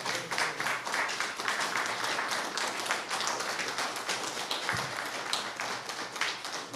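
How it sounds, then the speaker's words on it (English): Applause at a cadence music panel discussion event, steady rapid clapping from a modest audience throughout, fairly close and even, with no speech over it. "please let me hear a round of applause."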